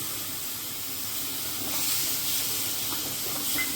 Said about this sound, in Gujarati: હવે તેમાં આપણે એક વાટકી દૂધ ઉમેરી દઈશું